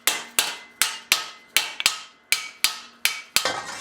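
Cross-peen hammer striking metal armor plate, about ten sharp ringing blows in a steady rhythm, close and loud with short metallic decays between hits, no talking.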